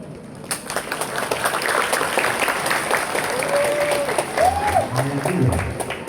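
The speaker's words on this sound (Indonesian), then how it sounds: "Kira-kira yang mendukung coba tepuk tangan." Students at a vocational high school student council election applaud for a candidate pair, a broad wash of clapping and crowd noise, with a presenter's voice heard talking over it near the end.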